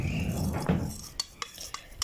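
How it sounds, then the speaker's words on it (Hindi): A spoon stirs honey into a drink, giving soft swishing scrapes followed by a few light metallic taps and clinks against the glass, close and quiet with no talking. "2 बड़े चम्मच शहद मिला ले। अच्छी तरह से मिक्स कर ले।"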